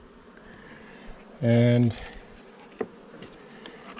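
Honey bees buzz around an open hive box where they are building new comb, one loud close drone for about half a second rising over a quieter hum, with a single short spoken word.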